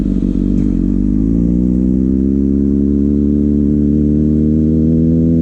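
A Kawasaki ZX6R sitting at roughly stock idle, a loud close steady engine drone that rises slightly in pitch in the first second and then holds an even rumble.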